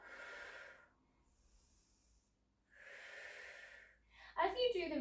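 Two audible breaths during Pilates press-ups, a long airy inhale and then a steady exhale with a quiet pause between, close and soft, followed by a voice starting to speak.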